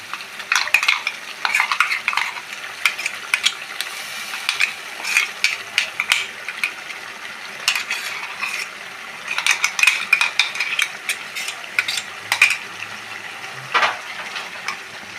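Ground masala paste is stirred into chicken stock in a pan for chicken curry, steady scraping and stirring strokes over a soft bubbling sizzle, close and continuous.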